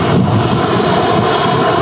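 An Aer Lingus Airbus A321neo jet at Manchester Airport gives a loud, steady broadband engine roar with wind rumble, continuous throughout and close by.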